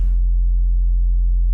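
A simple sine-wave sub-bass tone from a music production project: one steady, loud, deep hum that holds unchanged for about a second and a half, alone.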